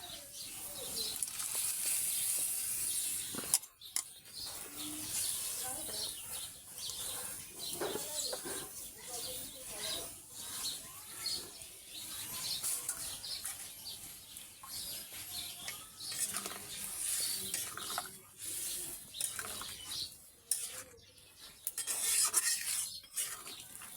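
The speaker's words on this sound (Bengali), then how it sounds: "আমি এখানে সব মশলা দিয়ে কষিয়ে নিচ্ছি।" Spices being sautéed for an egg curry, with a steady scraping stir in the pan and constant broadband cooking noise, while a rooster and other birds call faintly in the background.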